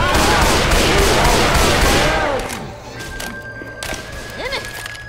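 Rapid gunfire and explosive bursts from the zombie shooter Left 4 Dead 2, loud and dense for about two seconds, then dropping to a quieter stretch with scattered shots and thuds.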